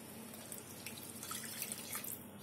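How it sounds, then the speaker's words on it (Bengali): Water is poured into a pan of tomato-based fish curry, a soft, faint trickling splash running steadily for a couple of seconds with no voices. "এবার আমি এর মধ্যে জল ঢেলে দিচ্ছি।"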